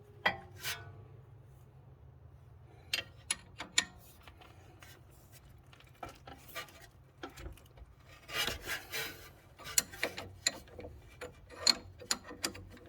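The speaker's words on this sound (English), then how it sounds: "Remove this bolt here that holds the sway bar end link onto this strut holder bracket, which is a 16mm bolt." A ratchet wrench turns a 16mm bolt holding the sway bar end link on a 2016 Audi A7 Quattro, with scattered quiet clicking bursts and metallic scrapes against a low background hum.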